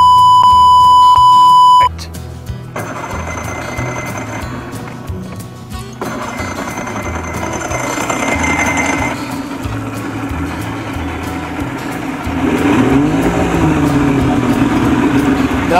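A 1987 Johnson 70 hp outboard motor that stalls under load runs with a low, uneven rumble. A steady electronic beep sounds for the first couple of seconds, and the engine drone swells louder toward the end.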